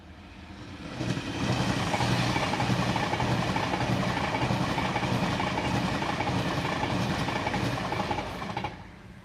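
A Pendolino passenger train runs through a passing loop near Doncaster as a loud, steady rush of rail noise that builds in over a second, holds close by for several seconds, then tails off.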